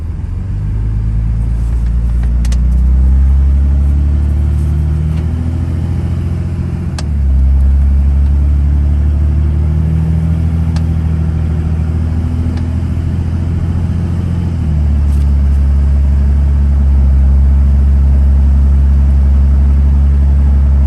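A 2003 Dodge Ram 2500 Cummins diesel pickup's exhaust rumbles deep, idling and revving close by, steady and loud, with the pitch rising and falling a couple of times.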